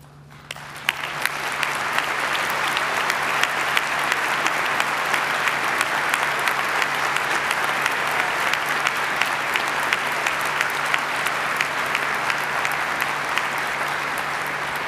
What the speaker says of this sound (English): join me for a round of applause and acknowledgement for your service